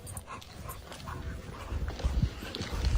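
Dogs picked up on a bus whimper and pant in short, close bursts, with a few rougher yelps toward the end amid low background noise.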